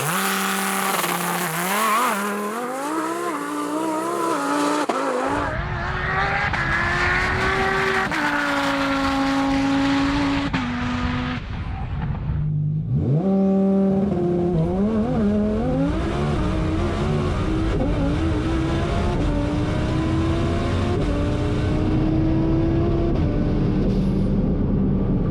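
A Precision Racing Lamborghini Huracan Performante at a runway drag battle roars loud and close, its engine revving and shifting through gears in continuous rising pulls with a brief dip in the middle, no talk.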